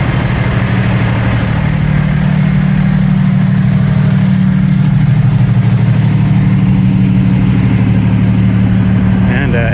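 A fire engine idles with a steady low rumble close by on a city street, humming evenly throughout, with a brief rattling noise near the end.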